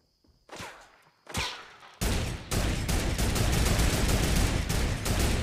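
Fortnite gunfire: two separate loud shots, then a sustained rapid burst of automatic fire that runs continuously to the end, close and harsh, with no talking.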